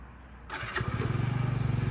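A fuel-injected Yamaha Jog SA39 ZR scooter engine turns over and catches, then settles into a close, steady, pulsing idle with a low putter that continues to the end.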